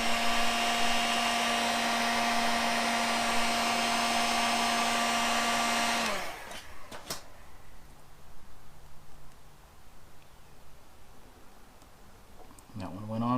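A heat gun blows hot air while a CL350 scrambler motorcycle is being worked on, a loud steady droning whoosh that cuts off after about six seconds, followed by quieter clicks and handling noise with a brief return of airflow at the end.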